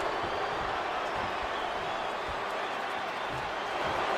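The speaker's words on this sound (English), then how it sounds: "do you hear this capacity crowd? They want more from Stone Cold" A packed wrestling arena crowd in the WWE 2K25 game roars in a dense, continuous wash of cheering and noise, loud and unbroken throughout.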